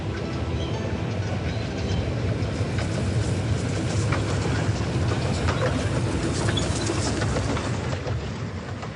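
A narrow-gauge train rolls along steadily, a dense rumbling clatter of wheels and carriages that stays loud and close throughout with no pause and no talk.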